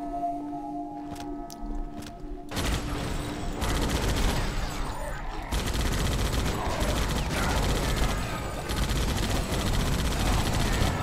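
Gunfire and explosions in Painkiller: Reloverdose at a nuclear plant level, a dense, continuous barrage of loud shots and blasts kicking in after a quieter opening with faint tones.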